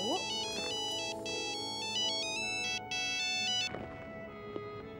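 A mobile phone ringtone plays a repeating electronic melody on an incoming call, loud and close, breaking off briefly and then continuing before stopping near the end, with faint background room sound.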